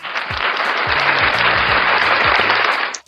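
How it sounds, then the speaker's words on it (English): An audience claps for the first episode of a sports talk show, loud, dense applause held steadily before cutting off abruptly at the end, with low voices faintly underneath. "Hey, clap it up for us, man."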